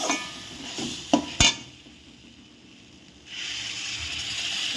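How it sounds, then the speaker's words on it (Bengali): Semolina upma being stirred in a pot, with a few clinks of a spoon against metal, a brief scraping burst, then a steady soft hiss once water is added. "অল্প অল্প জল দেবেন আর অল্প করে নাড়তে থাকবেন"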